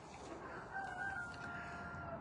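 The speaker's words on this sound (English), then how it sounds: "Oh, now my rooster's mad." A pet rooster crows once, faint and somewhat distant, its drawn-out call held over a soft, steady background hiss.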